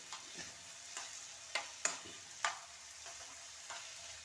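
Samosa filling being stirred in a pan after half a teaspoon of turmeric is added, giving soft scraping strokes and a few sharper spoon clicks over a faint, steady sizzle, with no talking.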